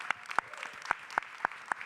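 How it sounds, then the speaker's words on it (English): A handful of sharp, evenly spaced hand claps comes from a panel audience at the EarthX2026 Solutions Stage, about half a dozen distinct claps, fairly faint against a quiet room. "let's do another round of applause over there for all 4"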